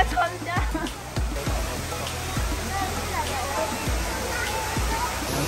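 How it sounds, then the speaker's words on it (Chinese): A large waterfall roars in a cold, windy spot, a steady broadband rush with dull low thumps at regular intervals, like wind buffeting, while voices murmur faintly beneath. "竟然就看到一个大瀑布"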